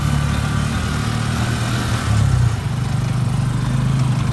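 Small motorcycle fitted with a sidecar and loaded with cargo rides along, its engine buzzing steadily up close, with a brief surge in the middle.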